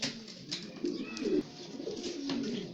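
Pigeons coo in a loft with soft, low repeated calls, several overlapping murmurs at close range, with a few faint chirps and rustles in the background.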